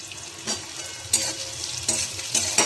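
Food frying in a pan before tomatoes go in, a steady sizzle broken by several bursts of stirring at irregular intervals, close and fairly loud.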